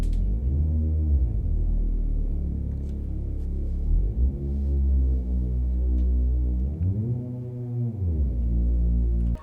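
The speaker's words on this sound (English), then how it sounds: "And then below that I have this really thick sub bass." Thick, booming sub bass synth made in Serum for a future garage track, rumbling continuously and sliding between notes with glide pitch bends, loud and alone without any talking.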